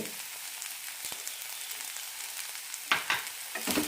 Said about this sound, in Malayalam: തേങ്ങ നന്നായി ഒന്ന് ചൂടാക്കിയെടുക്കാം